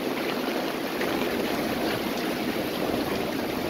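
Rain falls steadily on a house rooftop in Dhaka, a dense, even hiss that holds at the same level throughout with no pauses.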